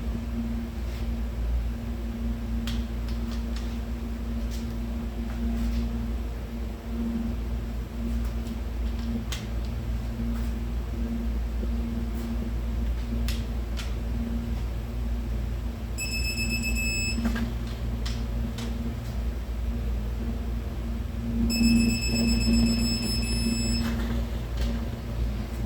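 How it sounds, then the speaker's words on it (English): Beeping from a torque wrench while tightening parts on a small-block Chevy 406 rotating assembly for a 1972 Chevelle, two short bursts of rapid high beeps over a steady hum and scattered ticks. "Here we go with the beeping again."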